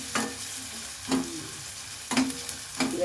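Onions frying in a pan until brown for an eggplant gojju, a steady close sizzle with four scraping stirs of a spoon at roughly one-second intervals, no voices.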